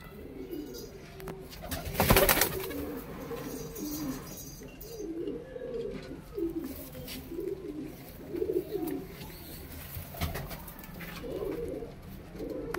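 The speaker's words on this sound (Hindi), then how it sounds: "सारे कबूतर छतरी के हैं, उड़ते हुए।" Chhatri pigeons coo in repeated low, rolling phrases nearby, with a brief burst of wing flaps and rustling early on and scattered clicks throughout.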